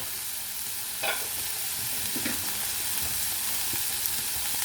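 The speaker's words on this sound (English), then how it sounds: "you can hear a little sizzle there as we bring the meat back" Low, steady sizzle of ground beef in a hot cast iron skillet, with a couple of brief scraping stirs partway through; no voices.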